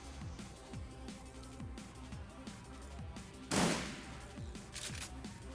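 A single gunshot in the video game Shadowrun Returns, a sharp burst cutting through a steady mechanical in-game background loop with repeating ticks and hums.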